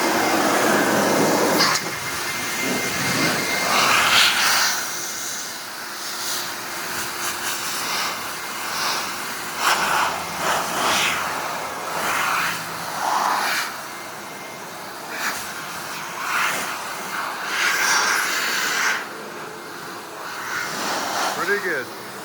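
A car wash air dryer blows on a white truck, a strong whooshing roar that rises and falls as people talk over it throughout.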